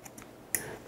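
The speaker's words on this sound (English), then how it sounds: "I'm going to actually then cut this little string" Two quick scissor snips cut a small string on a sous vide bag holding a cooked steak, sharp and close, with quiet room tone between the cuts and no talking.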